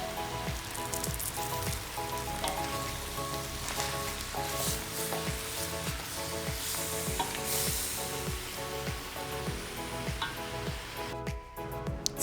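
Soaked rice vermicelli stir-fried and stirred in a pan for dry mee siam goreng, a steady sizzle with repeated rhythmic scraping strokes of stirring, ending in a brief pause.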